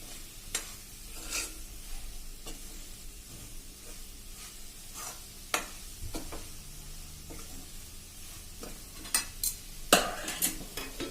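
Flour roasting in hot, bubbling ghee over a low flame for Kutchi adadiya, a soft continuous sizzle broken by intermittent scraping and clinks of a spoon stirring against the pan, close and fairly quiet, with no talking.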